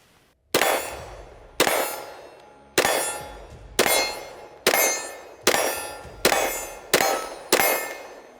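A Shadow Systems XR920P pistol fires eight sharp, loud shots at a steady pace of roughly one per second, each ending in a ringing clang from a steel target.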